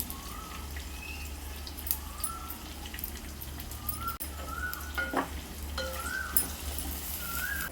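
Curry with onions and ginger-garlic paste sizzles gently in a clay pot while a wooden stick stirs it, soft scraping and bubbling over a steady low hum, with no one speaking.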